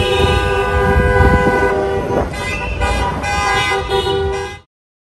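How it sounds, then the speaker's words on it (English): Onboard the 18-minute airport train into central Stockholm, a loud, steady rail rumble with sustained tonal whining rides along, then cuts off sharply. "18-minute ride from the airport to central"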